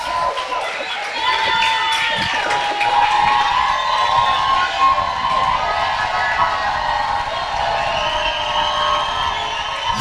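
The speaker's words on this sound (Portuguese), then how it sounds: "Uma salva de palmas pra ela." An audience at a live hangout talk cheers and shouts in a loud, sustained burst of overlapping voices and whoops lasting the whole stretch, with no single speaker standing out.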